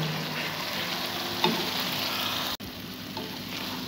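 Mashed potato paste frying in a pan, stirred steadily: a soft continuous sizzle with a few sharp scrapes and a brief clatter of the spoon against the pan, close up and fairly quiet.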